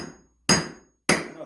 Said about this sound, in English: So now you take a hammer, and you're not hitting this thing hard.